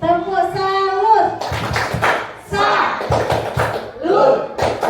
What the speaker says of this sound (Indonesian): Tepuk salut ya Bapak Ibu.